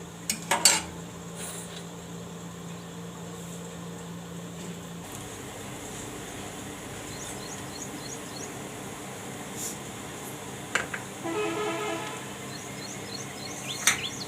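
A metal spoon scrapes and clinks against a pot as milk boiling for kalakand is stirred, with scattered sharp clinks over a low, steady simmering hiss and no voices.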